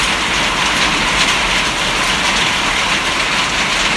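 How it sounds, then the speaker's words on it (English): Hail falling outdoors makes a dense, steady hiss and patter of hard strikes, loud and unbroken throughout with no voices. "it's currently hailing"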